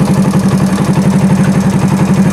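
A 70cc motorcycle with a faulty battery-charging rectifier idles close by, a steady, even engine putter with a quick regular pulse running unbroken throughout.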